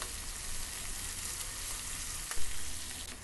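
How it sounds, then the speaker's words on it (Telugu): Chopped onions fry in hot oil with chana dal and curry leaves, giving a steady close sizzle with a brief clatter of stirring near the end, and no voices. "ఇప్పుడు కట్ చేసుకున్న 2 మీడియం ఆనియన్స్ని ఇందులో వేసేసుకోవాలి."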